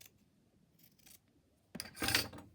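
Scissors cutting paper for a handmade journal: faint quiet handling and rustling at first, then a loud, close burst of crisp cutting and paper rasp near the end, no talking.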